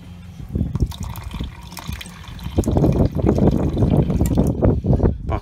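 Water from a kitchen faucet after the valve is opened: a few faint splashes and drips first, then a fuller, continuous running and splashing stream with uneven spatter, close by.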